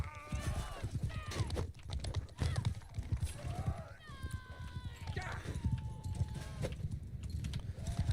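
A horse in the video game Mount & Blade: Bannerlord gallops with rapid, continuous hoofbeats and gives a few short whinnies, mixed with busy game sounds and a talking voice.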